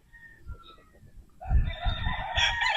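A Sweater Boston bloodline gamecock crows once up close, a loud drawn-out call rising in the second half after some quieter clucks and rustling.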